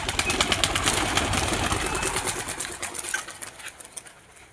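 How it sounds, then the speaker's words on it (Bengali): Five pigeons in a loft cage before release give a rapid, rhythmic fluttering and cooing pulse, fairly close, fading toward the end. "এখানে 5টা পায়রা আছে, যেটা তোমরা দেখতেই পাচ্ছ।"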